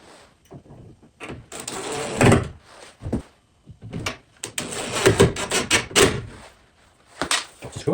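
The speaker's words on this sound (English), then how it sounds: "The hinges are on and the door's now swinging." A wooden door on lift-off hinges on a homemade phone box is swung and handled, giving a run of close knocks, creaks and clattering thumps in irregular bursts.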